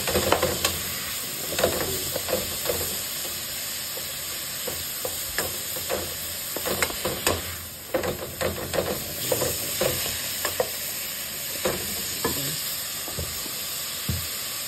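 Ground meat stirred and sizzling in a pan while a home lunch is cooked, a steady broadband fry with repeated scraping strokes of the spoon throughout, fairly close.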